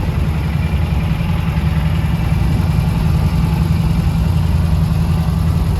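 Engine of an old John Deere tractor running at a steady idle, a loud, close, continuous low rumble with no changes in speed and no voices.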